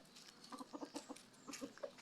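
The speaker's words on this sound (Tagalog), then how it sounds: "Dahil po yung malalaking manok." Several short clucks from chickens in a backyard flock of bantams and larger birds, coming in a loose, uneven run at moderate distance, fairly faint with no talking.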